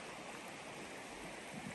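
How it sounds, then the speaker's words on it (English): A river flows beside a wilderness hiking trail in summer, a steady, soft broadband rush of water heard alone without voices. "See the river right there."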